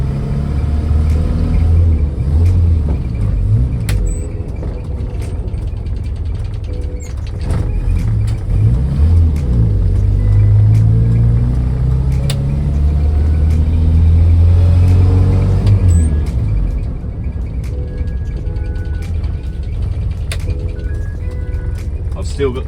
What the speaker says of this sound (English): I think I might take the old Moggy out for a spin